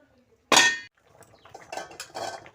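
A metal lid is set onto a pot of Bengali rohu fish curry with potatoes, giving one loud clanging clatter, followed by quieter scraping and clinking of cookware.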